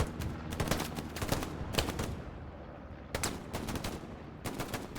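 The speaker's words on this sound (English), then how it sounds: "That's the Soviet weapon." Soviet weapon firing in the Stalingrad map of Hell Let Loose, rapid bursts of automatic gunfire in several rattling volleys with short pauses between, sharp and fairly close over a low battlefield rumble.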